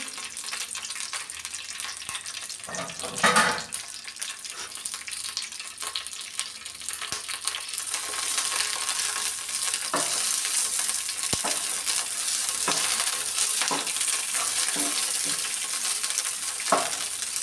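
Green chillies fry in oil in a pan, a constant crackling sizzle broken by scraping stirs, growing a little louder partway through.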